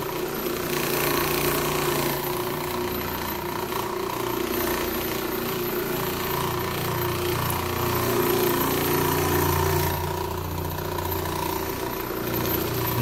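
An Orbot Vibe floor machine cleaning and polishing hardwood floors gives off a steady, loud mechanical drone with a buzzing vibration, running continuously and nearby without any speech.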